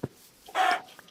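A chicken in a video game gives a single short cluck, close and fairly loud, after a small click, with the rest of the moment quiet.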